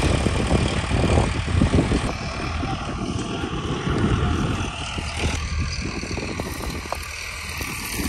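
Generator engine running in an open paddy field, a steady close mechanical drone with wind buffeting the microphone throughout.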